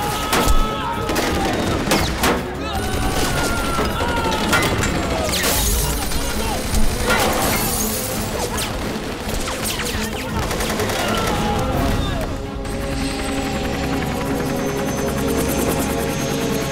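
Rapid bursts of gunfire ring out in a Hindi-dubbed action film scene, dense crackling volleys mixed with music and effects, loud and continuous across the scene with a brief shouted voice.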